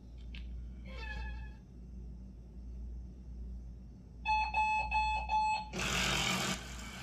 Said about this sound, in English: So basically, my mom just found this alarm.